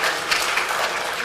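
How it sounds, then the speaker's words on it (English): Applause in a synagogue during a Shabbat service, a short burst of steady group clapping that fills the room evenly for just over a second. "No need to clap, we're still praying."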